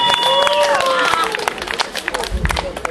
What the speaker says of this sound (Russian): И аплодисменты наших зрителей.